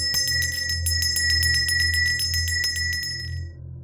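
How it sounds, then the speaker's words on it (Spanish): A bright metallic church bell is rung in quick repeated strikes over a low rumbling hum, then fades out near the end. "Aquel sonido del que les hablo era un ruido de una campana siendo repicada."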